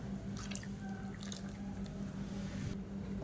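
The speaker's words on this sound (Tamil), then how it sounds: "இப்போ மிக்ஸியை அலசிட்டு தண்ணி சேர்த்துக்கலாம்" Water poured into a mixer grinder jar to rinse it while making horse gram chutney in a kitchen: faint splashing and dripping with a few brief clinks, quiet and close.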